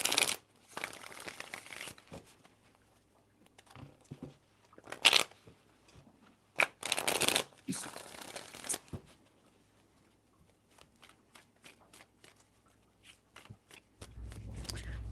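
Tarot cards being shuffled in several crisp, rustling bursts separated by quiet pauses, close and distinct, with scattered soft taps between them.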